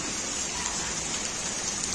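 Heavy rain pours down at night on a street in Crateús, a dense, steady, loud hiss with no pauses and no voices.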